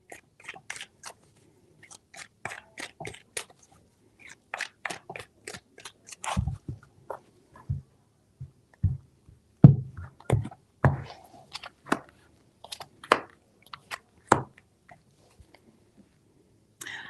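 Tarot cards being shuffled by hand, a run of crisp riffling snaps and flicks in short bursts with pauses between, close and fairly quiet, with no voice.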